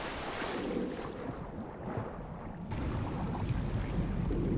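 Swimming through water in the survival video game The Forest, a continuous watery rush and wash that shifts midway into a deeper, fuller swirl.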